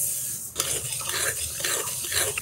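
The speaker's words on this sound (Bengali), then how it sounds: "ডালগুলো অনবরত নেড়ে নেড়ে ভেজে নিচ্ছি, একটু লাল লাল করেই ভাজলাম।" Mung dal being stirred and dry-fried in a hot wok (kadai), a steady scraping and rustling of the dry lentils with faint sizzle, close and continuous with a few louder strokes, no talking.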